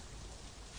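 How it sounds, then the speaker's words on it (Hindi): Steady, dense hiss of falling rain, even and continuous throughout with no voices. "सच में बारिश हो रही है।"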